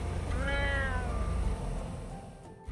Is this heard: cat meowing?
yes